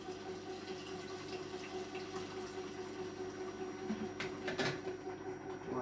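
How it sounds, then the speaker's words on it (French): Milk is poured through the lid cap of a Companion cooker while making chocolate dessert cream, a steady close liquid trickle with a couple of light plastic knocks near the end. "Vous versez le reste du lait par le capuchon."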